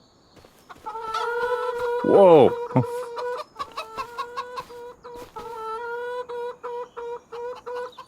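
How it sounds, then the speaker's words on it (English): Chickens in a pen in Farming Simulator 25 cluck and chirp close by in a steady run of short calls, with one louder squawking burst early on and a brief spoken exclamation. "Aw, tiny little chicken."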